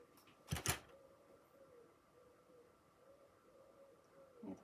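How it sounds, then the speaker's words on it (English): Pigeons coo outside, faint and distant, with a soft low call repeating steadily behind a quiet room tone and one brief louder rustle near the start. "the pigeons outside"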